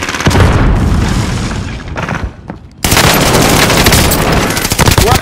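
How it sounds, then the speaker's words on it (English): Loud, dense booms and crackling gunfire from war footage with thrown grenades, sustained and near, briefly dipping before another heavy burst; voices shout in the mix. "Throwing grenades."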